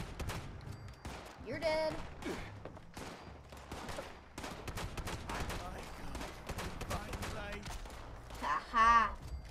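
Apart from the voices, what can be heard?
gunfire shooting at a fuel tank in Fallout 76 video game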